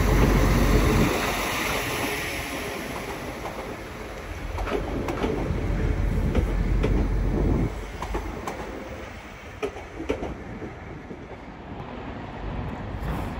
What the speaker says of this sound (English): Passing now is a Phantom West Coast service from London Euston to Glasgow Central.